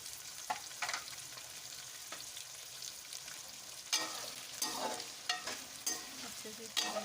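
Ginger and garlic sizzle quietly in a hot pan while a utensil scrapes and stirs them in irregular strokes, with occasional louder clinks against the pan.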